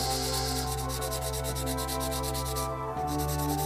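A Japanese Yasuri no Oyaji file rasps against a small plastic part from a 1/48 Zoukeimura F-4E Phantom II kit in quick, even back-and-forth strokes over a constant background hum, close up and without speech.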